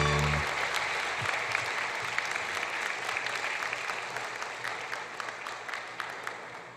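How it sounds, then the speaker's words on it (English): Audience applause at a calypso prize giving ceremony fills the room, a dense steady clapping crowd that holds strong throughout and fades slightly toward the end. "we want to give a round of applause and congratulate, of course, the 2023 Junior Calypso Monarch."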